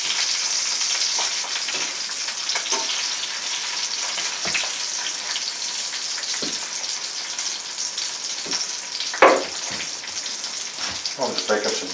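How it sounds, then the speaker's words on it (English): Bacon frying in a pan gives a steady hiss and crackle, with a few louder pops and scrapes breaking through the continuous sizzle. "I'm just making some bacon right now."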